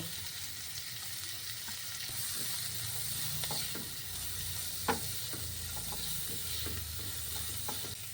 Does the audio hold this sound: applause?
no